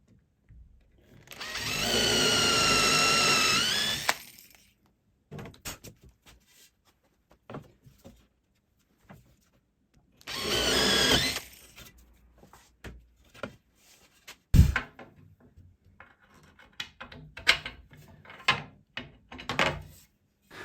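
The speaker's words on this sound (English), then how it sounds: "Then drilled out and the bolts fitted." A power drill bores into a cast iron garden bench in two bursts of high whining drilling, each a couple of seconds long, separated by quieter handling knocks and clunks, ending with scattered metallic taps.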